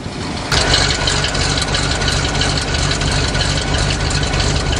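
A 427 engine in a dump truck runs close and loud with a heavy, steady rumble, a jolt and slight rise in level as it is put in gear, then an even idle-like drone.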